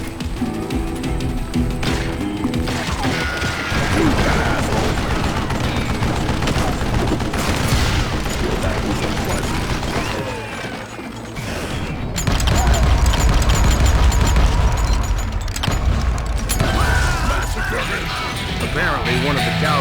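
In the Western shooter game Call of Juarez: Gunslinger, guns are reloaded with mechanical clicks and fired in loud bursts over game music and effects, with a voice talking in parts.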